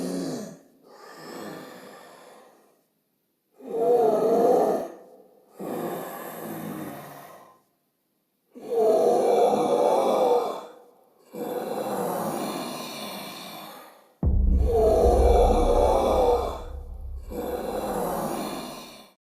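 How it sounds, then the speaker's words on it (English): Deep, distorted breathing from a Spirit Halloween plague doctor prop, slow alternating inhales and exhales in separate bursts with short silent gaps, raspy and close, with a low rumble under the later breaths. "it gives you like this really cool, like deep, distorted breathing, like he's like sick or something"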